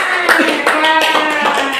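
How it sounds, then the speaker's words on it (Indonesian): A group claps together in a classroom session, the applause short and brisk over a steady background with voices running through it. "tepuk tangan buat kita semua"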